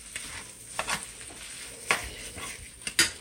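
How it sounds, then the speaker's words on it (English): Food stirred from the bottom of a pan, with a few scraping and clinking strokes of the utensil over a low sizzle, close by and with no talking. "just keep stirring it from the bottom because we don't want nothing to stick"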